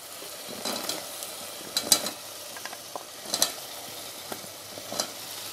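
Potatoes fry with mixed vegetables in a hot pan for a rice and vegetable pulao, a steady sizzle broken by several spoon scrapes and stirring clatters.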